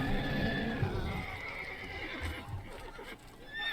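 Roach, the horse in The Witcher 3, gives a neigh with snorting and a few hoof thuds, fairly quiet against a soft game ambience.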